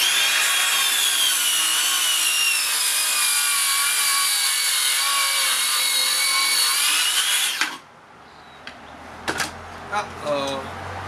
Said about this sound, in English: So this saw, with this saw blade on it, can do a bevel cut to 46mm